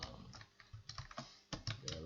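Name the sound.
typing code on a computer keyboard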